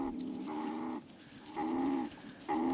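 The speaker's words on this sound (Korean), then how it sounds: "이 소리는 주위에 뱀이 있다는 걸 의미합니다" Wild meerkats sound repeated nasal, buzzing growl calls warning of a nearby snake, three or four sustained pulses separated by short gaps, moderately close over low background noise.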